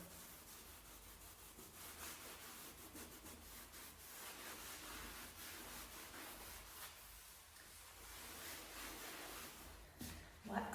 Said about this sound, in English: I'm putting the wax on and then I'm using a dry cloth to take the wax off